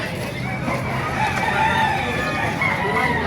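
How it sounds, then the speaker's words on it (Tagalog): Roosters crow over one another amid steady clucking from many chickens at a market, a dense, noisy flock close by with no pauses. "Ayan po, mga manok, oh."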